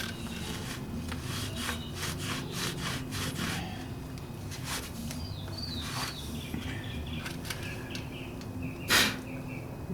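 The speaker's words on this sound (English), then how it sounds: "Run this rag through here just to clean it up" A rag is rubbed back and forth through a wheel cylinder from a 1960 Ford F100, giving repeated close scratchy strokes in a steady rhythm, with faint birdsong in the background.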